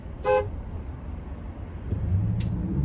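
One short car horn toot sounds over a low rumble of traffic at a traffic light, followed later by a second, fainter beep.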